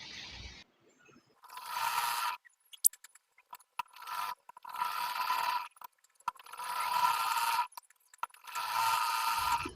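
A sewing machine stitches a double-folded salwar hem for a child's salwar, running in four separate bursts of steady mechanical whirring with short pauses and small clicks in between.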